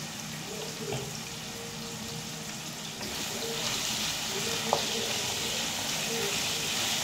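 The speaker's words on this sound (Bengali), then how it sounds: "আলুটা একটু ভাজা ভাজা করে নেব।" Potato pieces seasoned with salt and turmeric fry in oil for a Bengali hilsa curry, with a continuous, moderately loud sizzle and an occasional light clink of stirring.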